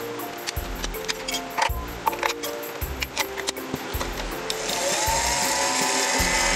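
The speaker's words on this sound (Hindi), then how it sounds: "भाई हमारा वॉशिंग मशीन है, चलो करते हैं इसे टेस्ट" Toy washing machine from a kids' pretend-play appliance set, a plastic ratcheting, clicking churn with irregular knocks, then a steadier whirring hiss toward the end, close and alone.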